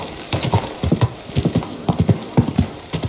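Steady clip-clop of horse hooves in Kingdom Come Deliverance 2, a quick rhythmic run of close, crisp beats with no voices.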